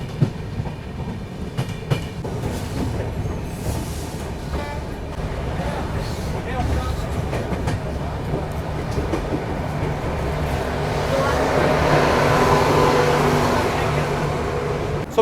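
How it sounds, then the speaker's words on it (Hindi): The Tinsukia–Bangalore Express pulls into Dibrugarh station in Assam during the monsoon, with rhythmic wheel clatter and rumbling carriages, a few sharp knocks, and a rising rushing sound near the end. "अभी अपनी ट्रेन पहुंच चुकी है अपने पहले स्टॉप पर, डिब्रूगढ़ रेलवे स्टेशन"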